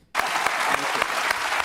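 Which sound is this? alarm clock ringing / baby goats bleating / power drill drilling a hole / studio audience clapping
studio audience clapping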